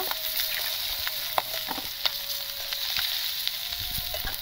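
Rohu fish sizzles steadily in hot oil, a dense crackling hiss with occasional sharp pops and light utensil taps, close and continuous.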